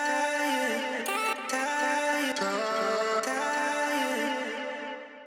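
A chopped vocal phrase made from a Cymatics Euphoria sample pack sings sustained pitched tones, sliced into abrupt segments with sharp cuts and restarts, bright and up front with no other voices.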